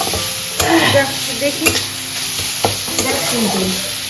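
Garam masala sizzles in hot ghee in a pan while a spoon stirs it, a steady frying hiss broken by several sharp scraping clicks, heard close up with no talking.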